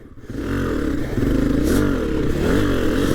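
A 2022 Honda CRF250F dirt bike engine runs while being ridden in low gear near a stop, a loud close single-cylinder thrum that rises and steadies with throttle, with light mechanical clatter.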